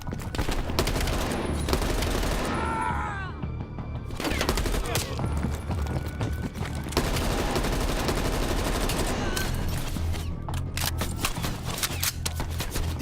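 Gunfire in the shooter Call of Duty: Black Ops Cold War, loud and almost continuous volleys of rapid shots and bursts, with a voice talking over the shooting in places.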